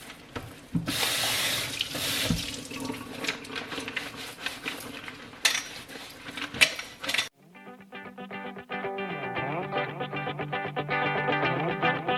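Water runs from a tap as a Dyson vacuum bin is rinsed, a steady broadband splash with sloshing changes in the first part, then shifting to a more tonal, ringing flow for the rest.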